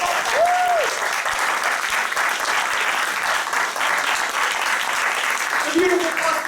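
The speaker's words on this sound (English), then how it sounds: "Give yourselves a big round of applause." Theater audience applauding steadily after an improvised ancient-mythology show, a dense, even wash of many hands clapping at fairly close range for several seconds, with brief tonal whoops or voices rising faintly above it.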